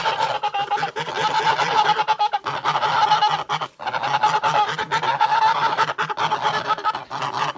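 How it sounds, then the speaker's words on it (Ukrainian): A flock of Kholmogory geese honking steadily and loudly, overlapping calls continuing throughout with a brief lull midway. "ми просто помилуємося нашими гусьми без коментарів"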